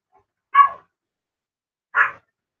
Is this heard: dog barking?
yes